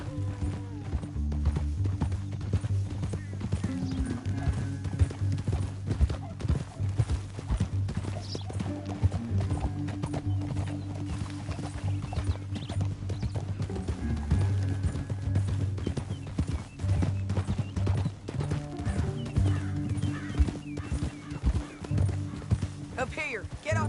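Horse hooves clip-clopping steadily at a walk in the Red Dead Redemption 2 video game, rhythmic and close, with game characters talking over the hoofbeats and an occasional whinny.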